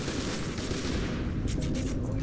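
Enemy gunfire in the shooter F.E.A.R. 2: Project Origin forms a dense, continuous rattle of shots over a loud noisy battle background.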